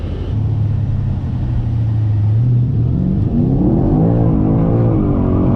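A roughly 1,000 hp Mercedes E63s engine held at full throttle, a loud, sustained rumbling roar whose pitch rises and wavers as the revs climb, with no talk over it.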